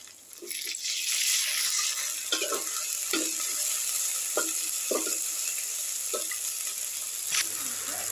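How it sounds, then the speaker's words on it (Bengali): Onion, green chili and ginger paste fry and sizzle steadily in a pan with a few stirring scrapes, cooking alongside hilsa fish for sorshe ilish. "এখানে দিয়ে দিলাম পেঁয়াজ কাঁচামরিচ আদা বাটা দেব হলুদ গুঁড়ো মরিচ গুঁড়ো জিরা গুঁড়ো"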